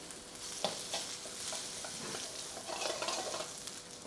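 Broccoli and onion stir frying in a pan for a beef stir fry, a steady close sizzle with occasional stirring scrapes and crackles throughout, no talking.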